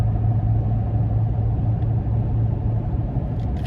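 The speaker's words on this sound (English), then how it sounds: "Road noise is there, but not terrible." A steady low road rumble and a constant drone fill the cabin of a 2018 Ram 1500 Night Edition Hemi cruising on the interstate, even and unbroken throughout, with no talking.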